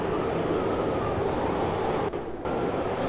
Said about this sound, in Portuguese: O vento no meu ouvido tá muito alto.